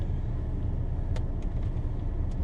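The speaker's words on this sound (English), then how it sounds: "I just decided to give you guys a ride inside and to show you guys how it sounds inside with the KT4 downpipe" Cabin of a Volvo S60 T6 fitted with a KT4 downpipe, a steady low engine drone with road rumble filling the space, moderate and even throughout with no voices.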